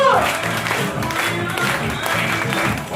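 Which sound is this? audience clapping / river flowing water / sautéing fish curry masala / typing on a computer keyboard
audience clapping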